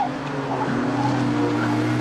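A powerful six-cylinder BMW rally car engine roars steadily at a distance on a rally stage at Blyton, with a faint whine of tires and gravelly road noise underneath, no voices.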